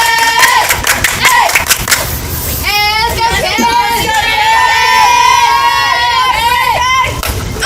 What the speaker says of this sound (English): Check out the ladies. They're cheering.